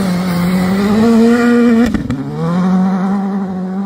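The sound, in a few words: Skoda Fabia R5 rally car driving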